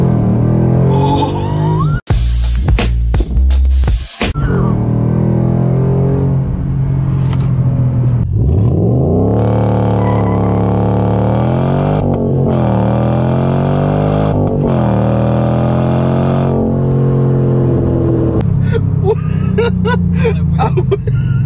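A 2013 Ford Mustang GT Premium engine roars up close, revving hard and climbing in pitch as it accelerates, with a couple of sharp knocks early on.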